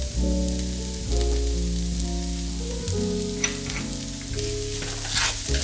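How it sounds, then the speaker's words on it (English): Garlic sautéing in a pan, a soft steady sizzle heard beneath louder background music throughout. "Add garlic and sauté for 20 to 30 seconds until fragrant"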